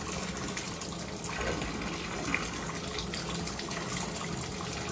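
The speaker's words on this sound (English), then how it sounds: "So now the water's getting deep enough where your full boot is literally submerged in there" Hot water runs steadily from a tap into a sink holding submerged football cleats, a continuous close gushing and bubbling without talk.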